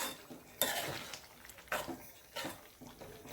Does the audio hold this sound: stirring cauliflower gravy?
yes